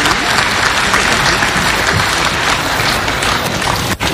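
Audience applause at a memorial service, steady and dense clapping filling the space throughout and dropping off briefly near the end.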